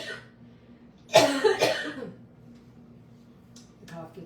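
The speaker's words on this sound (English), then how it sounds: "The cough gets worse at night, and when I talk a lot." A person with a persistent cough lets out a couple of harsh, close coughs in quick succession, followed by quieter breathy throat sounds in an otherwise quiet room.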